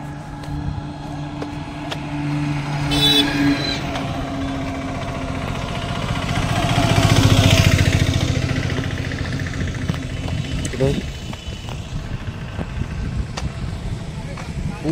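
Engines idle and run at a packed motorcycle gathering in Tulsipur, Godda, a continuous low throb of bikes and other vehicles that swells in the middle, with someone talking over it throughout.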